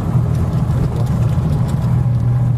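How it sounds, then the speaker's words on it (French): A Panhard car's air-cooled flat-twin engine runs with a steady, close, loud low thrum, an even throbbing rumble that carries on without a break and no talk over it. "au niveau bruit du moteur, c'est un peu le bruit d'une deux chevaux hein, puisque c'est aussi un bicylindre à plat,"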